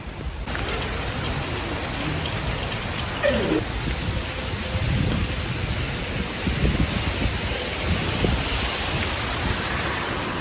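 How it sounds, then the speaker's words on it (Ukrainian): Steady heavy rain pours down through a drawn-out thunderstorm in Mostar, Bosnia, a dense continuous hiss with no talk over it. "Але гроза така затяжна."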